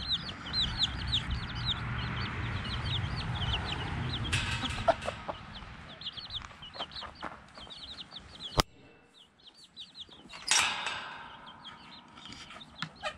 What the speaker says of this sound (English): I wanted you to see how the chickens were doing